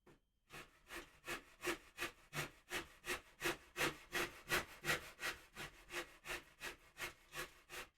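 A guitar body is hand-shaped into its belly transition. Wood is taken off in steady, even strokes of rasping or sawing, about two per second, close and fairly quiet, with no talk.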